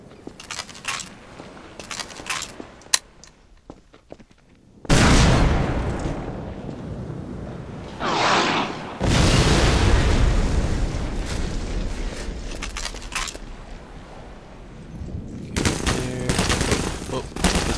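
Enemy gunfire crackles through a Half-Life 2: Lost Coast firefight, with scattered shots early on, then dense, loud bursts of automatic fire and blasts that fill most of the stretch with little pause.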